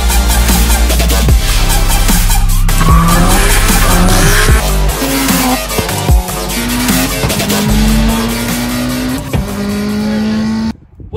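EJ207-swapped Subaru WRX drifting, loud engine revving rising and falling with long squealing tire skids, close and intense, cutting off abruptly at the end.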